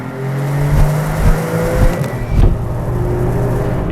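A 2024 Alfa Romeo 33 Stradale accelerates hard on a race track, its engine note rising and holding loud and close with no speech heard.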